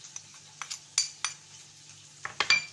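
A spoon stirs a pizza topping mix of garlic, olives, green pepper, salt, black pepper and cumin in a bowl, giving scattered light clinks and scrapes at an uneven pace, faint and close.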